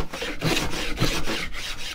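Saker chamfer plane cutting a 45-degree chamfer along a wooden edge: two close, rasping shaving strokes, each a dry scraping rush, heard alone and up close.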